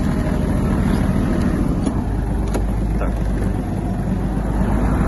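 Kubota GL-200 Japanese mini tractor driving, a steady loud low engine drone with wind rumble across the microphone and no break throughout.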